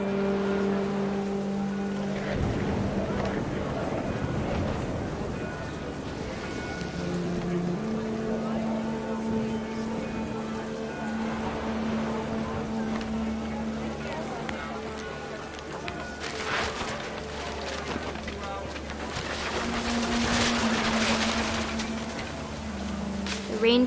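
Heavy rain and gusting wind in the video game What Remains of Edith Finch make a steady wash of downpour that swells and fades. A voice talks over it throughout, with quiet music underneath.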